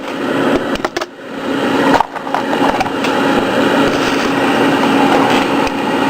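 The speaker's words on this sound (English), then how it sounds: "I have my case trimmer." A case trimmer spins steadily as it trims .223/5.56 brass cartridge cases to length, a continuous loud whirring grind with brief dips and scraping clicks between cases.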